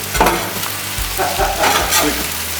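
Food sizzles on a restaurant griddle, a steady close frying hiss with scraping and stirring bursts from a spatula throughout.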